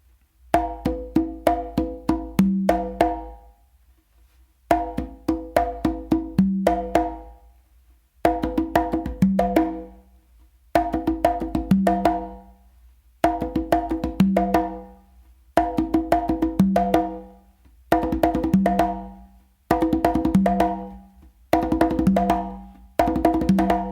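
Congas play a repeated combination ending in open slaps across two drums, with sharp slaps and tones in short phrases separated by brief pauses; close, solo, and evenly paced.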